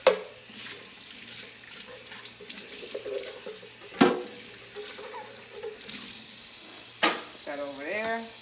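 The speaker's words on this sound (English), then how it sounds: "A little more water pressure." A kitchen tap runs into a sink at higher pressure, a steady close rush of water broken by sharp clatters and knocks as items are handled, with a brief squeaky rub near the end.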